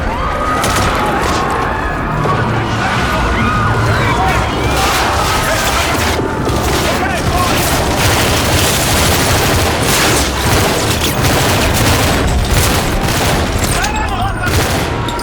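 Dense gunfire and explosions from Call of Duty Infinite Warfare, loud continuous bursts and booms with shouted voices mixed in throughout.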